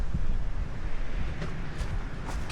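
Wind gusting across a hiking trail at Woolpack Rocks, a loud steady roar buffeting the microphone with low rumbling throughout, no voices.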